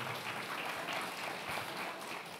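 Audience applause at a book launch event, a dense, steady wash of many hands clapping at a moderate distance, sustained without pause and with no voices on top.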